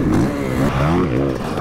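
A two-stroke dirt bike engine revs and drones steadily, its pitch rising and falling throughout, loud and close.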